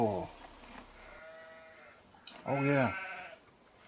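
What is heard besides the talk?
sheep bleating in a farming video game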